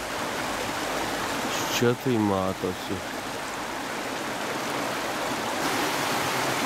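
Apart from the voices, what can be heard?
small stream flowing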